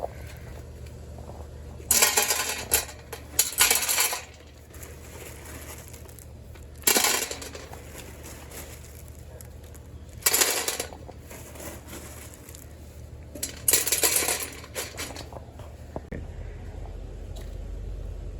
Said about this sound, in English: Okay, there's our lava rocks. Okay, let's go ahead and get them in.